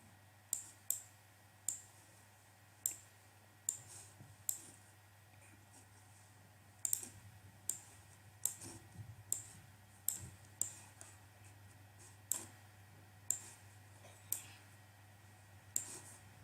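Faint, sparse clicks and taps come from a computer keyboard as an IP address is typed in, arriving in scattered single keystrokes and small clusters against a low steady hum.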